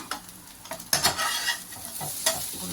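Podi idli with coriander leaves is stirred in a hot pan, a metal spoon scraping and tossing in several uneven strokes over a soft sizzle, close and fairly loud.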